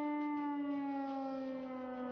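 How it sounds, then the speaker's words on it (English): A steady wailing alarm siren inside a Call of Duty Zombies map, holding one sustained tone with strong harmonics that drifts slightly downward, continuous and fairly loud throughout. "Hear the siren?"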